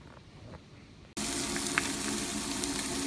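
Tilapia fillets frying in a couple of pans at once: a loud, steady sizzle bursts in abruptly after a quiet second and keeps hissing and crackling close by, with no talking.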